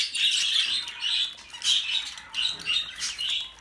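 Budgerigars squawk and chatter in shrill, scratchy bursts, several rising and falling calls in quick succession, close and fairly loud with no voices over them.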